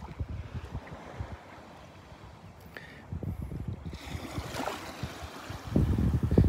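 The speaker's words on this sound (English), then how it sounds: "Just some tiny little waves today." Gentle small ocean waves lapping and washing on a beach at Delnor-Wiggins, with wind buffeting the microphone, growing a little louder toward the end.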